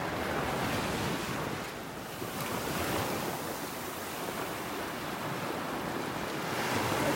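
Gulf surf washes steadily onto the beach at Delnor-Wiggins in North Naples, Florida, a continuous close wash of breaking waves mixed with wind buffeting the microphone.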